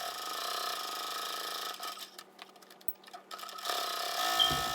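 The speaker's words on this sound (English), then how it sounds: "I'll be going to the sewing machine and sewing down the two long edges" A fast, steady mechanical whirring of a sewing machine stitching the long edges of fabric for a tablet or book case, running continuously, dipping briefly in the middle before resuming, fairly quiet and close.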